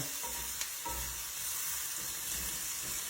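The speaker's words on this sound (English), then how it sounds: "I wanted to, put the steaks in right at the last minute because, they're already cooked" Already-cooked ribeye steaks sizzle and fry steadily as they reheat in a pan for steak fajita quesadillas, with a bright continuous hiss and occasional stirring clatter.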